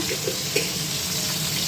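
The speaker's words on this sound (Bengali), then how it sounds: "ভাজা চলছে বন্ধুরা" Vegetarian dish frying in a home kitchen, a short steady sizzle with a few soft stirring clinks, fairly close and continuous.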